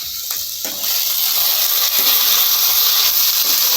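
Chopped peas and capsicum fry for suji upma in a pan, a steady close sizzle running throughout with faint stirring scrapes and no talking.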